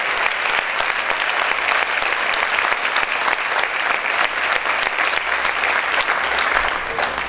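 A church congregation claps loudly and evenly, a dense unbroken wash of applause that holds at the same level throughout.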